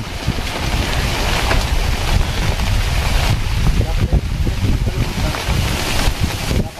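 Strong typhoon wind roars and buffets continuously, loud and close, a rushing gusty blast with no pauses.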